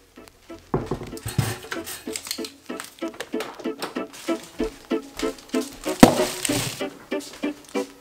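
Dishes and cutlery clatter in a home kitchen while food is prepared, a string of irregular close knocks, clinks and scrapes of varying loudness.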